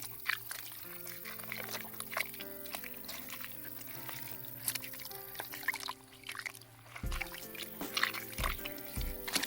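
Wild mushroom spores being poured and stirred into water, a close gurgling pour with drips and sloshing, broken by a brief quiet gap before splashing resumes, no talk.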